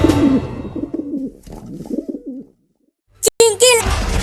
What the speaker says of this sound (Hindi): वो रहा कमीना कबूतर।